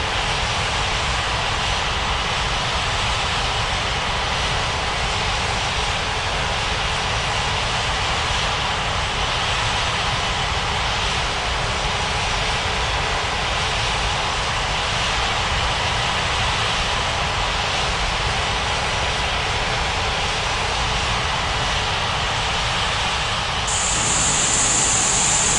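Steady, loud aircraft engine drone from a plane taxiing at an airport in an air traffic control game, holding constant throughout with a brief brighter hiss near the end and no voices.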